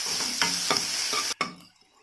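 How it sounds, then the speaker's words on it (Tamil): Chopped onion fries in hot oil in a pan, a steady close sizzle broken by stirring scrapes, then cut off abruptly as the sound drops away. "ஒரு பெரிய வெங்காயத்தை குட்டியா கட் பண்ணி இதுல சேர்த்துக்கலாம். அதையும் எண்ணெயிலேயே நல்லா வறுத்துக்கலாம்."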